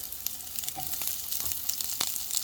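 Onions sizzling and frying in a pan for palak paneer: a steady close hiss with faint scraping clicks from stirring, no voices.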